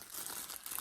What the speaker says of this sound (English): I'm just going to quickly get it out of this plastic bag